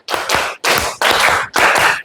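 A class of students claps hands together in a counted pattern, four loud, close bursts of rapid clapping separated by brief pauses, with no talking over it.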